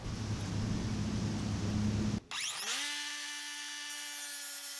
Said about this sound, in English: Let's now test it, cutting some aluminum trim profile with the metal cutoff wheel.